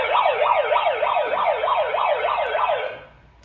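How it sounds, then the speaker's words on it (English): An UZI handheld megaphone's siren setting at low volume, a steady fast wailing tone that sweeps up and down repeatedly for about three seconds, then cuts off, with no one speaking. "I'm gonna click the siren button."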